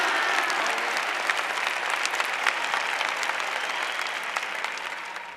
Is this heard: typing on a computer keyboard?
no